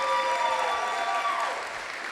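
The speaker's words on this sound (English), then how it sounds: "I would just like a round of applause for how amazing Maria looks tonight" Wedding guests at Rosewood Farms in Elkton, Maryland, applauding at a reception, a brief burst of crowd clapping with a sustained musical tone underneath that fades toward the end.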